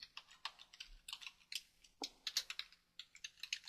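Quick, light keystrokes patter on a computer keyboard in an irregular run of close, crisp clicks with no talk.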